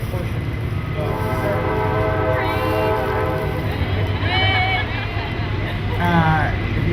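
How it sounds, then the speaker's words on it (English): A train passing about 100 feet from a house, with a loud sustained horn and steady rumbling rail noise close by, while people talk over it. "Trains follow us everywhere, so By the way, we live by a train, literally about 100 feet from my house."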